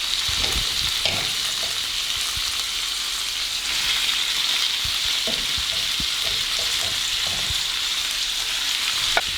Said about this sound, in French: Je fais revenir juste quelques secondes capugliato avec les oignons et je vais ajouter les haricots cuits.